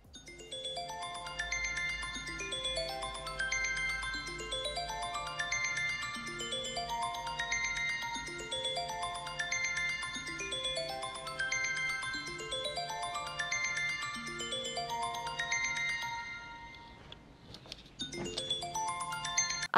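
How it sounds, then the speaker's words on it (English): A phone alarm ringtone plays a repeating cascading melody of bright electronic tones, looping steadily and moderately loud for the whole span with a brief pause near the end before it resumes. "I've been setting my alarm for 6 a.m."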